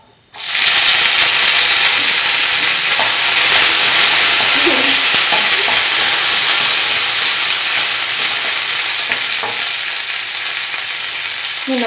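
Dried red chillies and curry leaves fry in hot oil with a loud, continuous close-up sizzle that starts abruptly and holds steady, broken by faint scraping stirs, with no voices.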